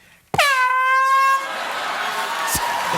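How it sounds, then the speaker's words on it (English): A sudden, very loud air horn blast, blaring for about a second before trailing off into lingering noise. "I was just cleaning the air horn, John, and it went off"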